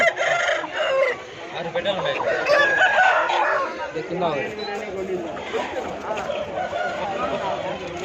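Chickens cluck and a rooster crows amid a crowded outdoor Sunday chicken market, with people talking and chattering over the birds.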